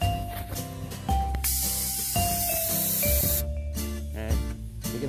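Aerosol insecticide sprayed at bees in a tree, a steady pressurized hiss running almost continuously over several seconds, close and fairly loud, with background tones beneath and no talking.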